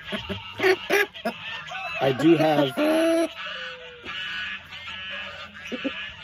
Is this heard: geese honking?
yes